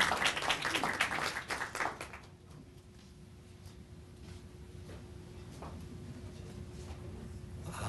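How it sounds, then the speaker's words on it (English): An audience claps for a school superintendent at a bookfair gathering, a dense burst of applause that fades out after about two seconds into a quiet room with faint shuffling. "So let's give him a warm round of applause."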